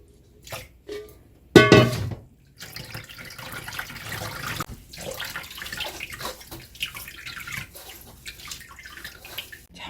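Water poured and running over soaked grain held in a sieve while making gochujang, a close trickling and splashing with a brief louder gush near the start, then softer dripping and handling noises.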